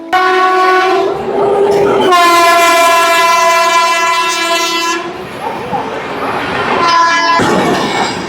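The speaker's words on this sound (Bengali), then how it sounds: "ডুন এক্সপ্রেস, এটা দেরাদুন থেকে আসছে, হাওড়ার উদ্দেশ্যে যাচ্ছে।" A loud, sustained train horn sounds in long blasts over the rumble of the passing Doon Express from Dehradun to Howrah, then sounds again briefly near the end.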